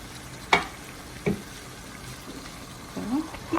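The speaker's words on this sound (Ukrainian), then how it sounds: "Хай тепер обжариться з морквою." Steady sizzling of grated carrots frying in a pan for pilaf, with a few scraping stirs and clinks of a utensil against the pan, close by.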